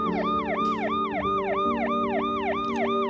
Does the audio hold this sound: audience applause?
no